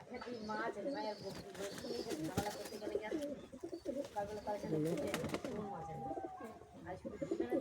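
Pigeons coo in soft, repeated throaty phrases close by, with a person talking over them for much of the time.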